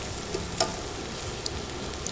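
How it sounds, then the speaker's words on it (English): Quiet, steady sizzling of food frying in a pan, with a few faint crackles and pops. "There's something about sizzling in a pan that is so satisfying."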